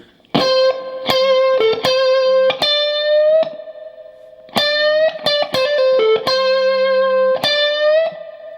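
Distorted electric guitar plays a bluesy lick of sharp picked notes and bends in two phrases, separated by a brief pause, loud and up close.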